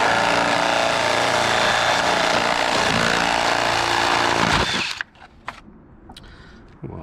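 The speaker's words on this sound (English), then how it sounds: "So both holes are drilled." A power drill whines loudly and continuously while boring holes for a motorhome modification, a steady close buzzing grind for nearly five seconds before stopping abruptly, followed by a few faint knocks and handling clicks.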